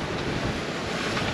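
Wind blows at sea aboard a Leopard 45 sailing catamaran, a dense, loud broadband rush mixed with water wash and microphone buffeting that stays constant for the whole short stretch.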